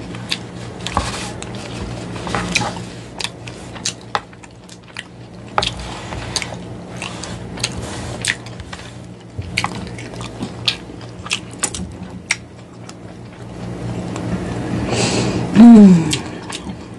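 Tacos are eaten up close, with repeated crunchy bites and wet chewing spread through the whole stretch, punctuated by sharper crackles and a brief louder breath or squish near the end.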